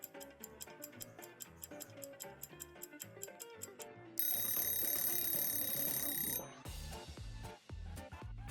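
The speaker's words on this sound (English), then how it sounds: "I heard a buzzer" A game show buzzer sounds during a Magic Online creator game show: steady ticking like a countdown clock, then a loud, sustained electronic buzz lasting about two seconds, followed by a brief musical sting.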